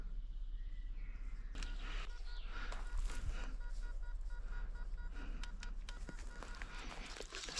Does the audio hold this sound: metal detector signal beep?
yes